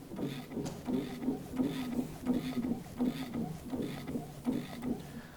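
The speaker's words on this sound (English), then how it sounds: "We then pump our handle, and the gripper automatically engages." A counterbalance drum stacker's hand pump handle is worked to engage its drum gripper, giving a steady run of rhythmic mechanical clunks and ratchety pulses, close and moderate in level.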